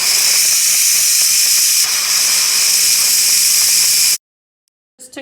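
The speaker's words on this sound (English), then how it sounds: "So it just finished, so I'm going to release the steam." An Instant Pot pressure cooker full of spicy chicken soup vents steam in a loud, steady hiss for about four seconds, then cuts off abruptly into silence before a brief faint clatter.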